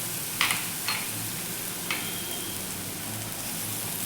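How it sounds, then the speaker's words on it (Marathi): Ginger and chillies are sautéed in a pan with a steady, moderate sizzle, along with a few quick scraping stirs of a spatula early on and no voices. "ते देखील आपण व्यवस्थित असं परतून घ्यायचं आहे"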